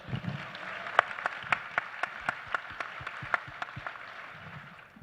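An audience at PoshFest in Phoenix claps in a fairly regular rhythm, distinct sharp hand claps rising above softer background applause, moderately quiet overall.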